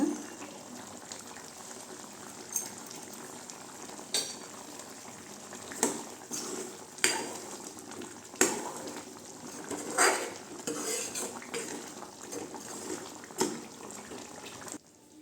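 Okra thokku simmering in a pan, a quiet steady bubbling with repeated louder pops and spurts every second or two, heard up close without any talking.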